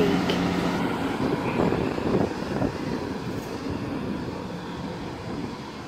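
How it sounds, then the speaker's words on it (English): A train passes through Pencoed station, a broad rumbling wash of rail noise that stays fairly steady and close, slowly easing off toward the end with no talk over it. "The train was coming up here, which is stopping over on that platform"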